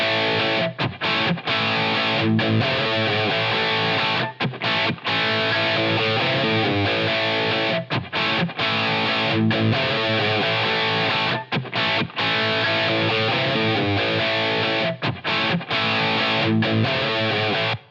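Electric guitar played through a Line 6 Helix LA Studio Compressor modeled on a Teletronix LA-2A, a loud, dense, continuous riff with short choppy breaks, evenly squeezed dynamics and a slightly gritty edge, with no talking.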